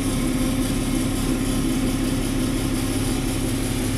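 A tractor engine idles steadily at an equipment sale, a constant low mechanical drone with an even pulsing hum, loud and close, with no voices.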